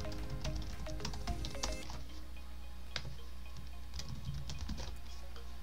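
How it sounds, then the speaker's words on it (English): Fingers type on a computer keyboard while text is entered in the Google Slides presentation editor, a faint, quick patter of key clicks in short bursts over a steady low hum. "Here we can start typing information to create our presentations."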